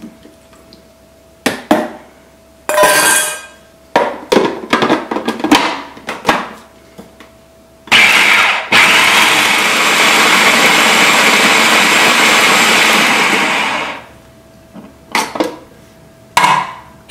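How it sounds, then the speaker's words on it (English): A food processor whirs loudly and steadily for about six seconds as it purees fried onion with tomatoes, with clattering, tapping and short bursts of kitchen handling before and after. "Now we're going to puree this onion along tomatoes together in our food processor."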